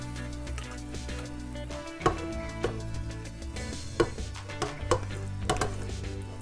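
Browned ground beef tipped into a pot of keto chili base, with a handful of soft thuds and scrapes of a spoon against the pot over a low, steady background hum.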